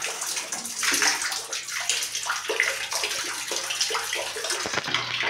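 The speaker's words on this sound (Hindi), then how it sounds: "अब हम इसका वाल खोल देते हैं पानी का, देखते हैं इसमें पानी टपकता है क्या।" Water gushes steadily from a household faucet once the supply valve is opened during a dripping-tap repair, a loud continuous splashing rush with no pause.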